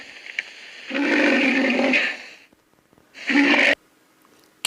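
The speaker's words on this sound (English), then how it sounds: "Rhinoceros." Rhinoceros calls for a children's animal-name lesson: two loud, harsh roaring bursts, the first long and sustained, the second shorter after a pause, heard alone and close.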